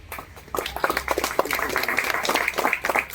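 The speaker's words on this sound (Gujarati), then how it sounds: "તાળીથી વધાવીએ." Audience applause at a poetry gathering in Nagwa, Diu, a steady patter of many clapping hands that swells after a quiet start and holds at moderate loudness.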